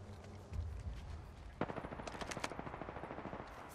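Rapid automatic gunfire in the Apex Legends video game, a brief low rumble giving way to a dense stream of sharp repeated shots that continues to the end, with no voices.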